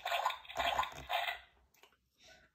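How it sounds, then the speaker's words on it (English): A cartoon dog jumps into a great big puddle, giving a few close, bursting splashes of water that quickly trail off into small drips and a last light splash. "Daddy jumps in a great big puddle."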